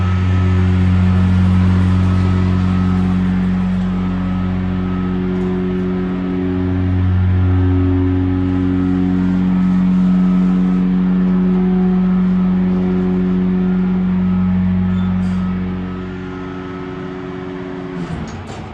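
The motor of a Montgomery freight elevator at Augustana's Sorensen Hall runs with a loud, deep steady hum and rising and falling tones, then slowly winds down near the end, with no talking.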